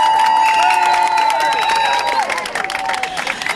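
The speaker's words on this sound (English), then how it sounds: "Big round of applause." Crowd at a Toronto anti-lockdown protest cheers and applauds, a steady wash of clapping and shouts close around, with a sustained whistle or tone over it that fades after a couple of seconds.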